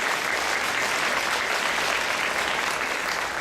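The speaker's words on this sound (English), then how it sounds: "A warm round of applause, please." Dense, steady applause from a large audience at the opening of a Chinese cultural Lantern Festival gala, a continuous wash of many hands clapping at even loudness throughout, with no voices on top.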